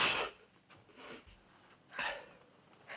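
A sharp sneeze bursts out at the start, followed by fainter sniffs and breathy snorts at intervals.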